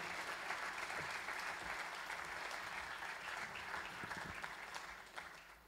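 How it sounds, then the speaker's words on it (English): Sustained audience applause for the musicians at a church service, a dense steady wash of many hands clapping that fades slightly at the end, heard from a distance. "I want you to give them a huge round of applause"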